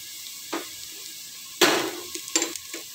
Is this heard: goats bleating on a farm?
no